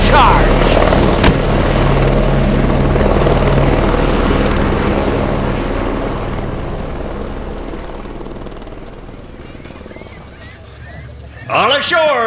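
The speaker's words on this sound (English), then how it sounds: "That must be Kincaid's helicopter taking off." A helicopter lifts off with a dense, steady rotor and engine roar that fills most of the stretch, slowly fading as it pulls away, before a sudden burst of louder noise near the end.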